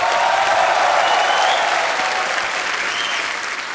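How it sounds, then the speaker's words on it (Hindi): Studio audience on a comedy talk show applauding for Akshay Kumar, a loud sustained wall of clapping that eases slightly toward the end. "अक्षय बाजी के लिए जोरदार तालियां हो जाए एक बार।"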